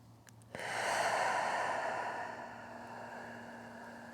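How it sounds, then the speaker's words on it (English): A long, steady breath during a yoga flow, close and soft, a single sustained inhale or exhale rising then slowly fading, with no talking. "And just breathe."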